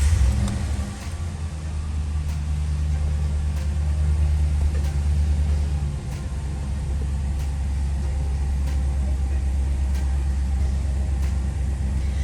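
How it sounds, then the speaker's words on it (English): A 2015 Ram 1500 Express pickup is started with a key, rumbling to life and then idling in a steady, loud, low drone with no talking. "I'll now just get in this vehicle and turn it on for you."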